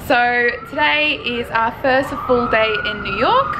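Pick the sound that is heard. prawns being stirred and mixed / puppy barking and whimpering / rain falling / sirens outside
sirens outside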